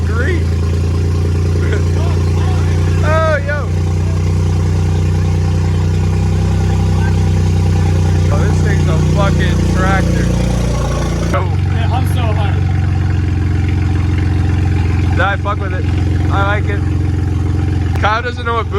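A tractor engine rumbles loudly and continuously, its tone shifting partway through as it settles into running, while several people talk over it.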